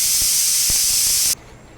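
A pressure cooker whistle blasts loud steam while lentils cook, a harsh continuous hiss that cuts off abruptly after about a second and a half, with a few soft knocks underneath.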